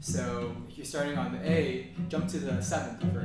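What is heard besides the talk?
No everyday noise stands out behind the speech.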